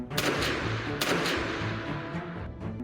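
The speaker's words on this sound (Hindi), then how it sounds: "मजमे से 2 गोलियां चलने की आवाज आती" Two sharp gunshots crack out from a crowd at a public gathering, about a second apart, each with a bright burst and echo over a dense, steady background din.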